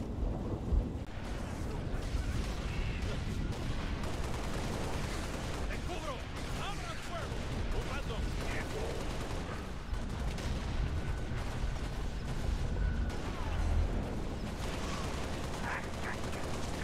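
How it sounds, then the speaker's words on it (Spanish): Gunfire in the Halo Reach video game, sustained loud rumbling battle noise with repeated shots and explosions throughout, under game voices and commentary. "Disparos."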